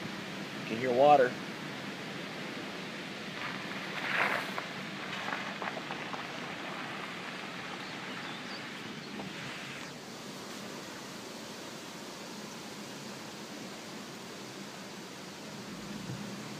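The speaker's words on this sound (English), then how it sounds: "You can hear water." Steady broadband rush of water in San Isabel National Forest runs throughout, a constant distant flow with a couple of brief louder knocks early on.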